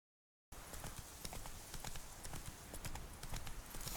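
Horse hooves clip-clop in The Witcher 3, a quick series of sharp, distinct hoofbeats on hard ground that starts after a short silence and continues at a moderate, close level.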